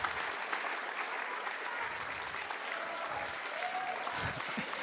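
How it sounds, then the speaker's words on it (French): An audience at a Strasbourg book event claps steadily in sustained applause, heard at moderate distance in a room. "j'entends des applaudissements simplement en lisant le sommaire"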